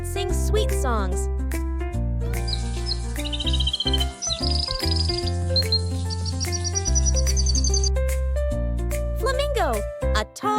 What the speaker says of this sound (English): Bird that sings sweet songs.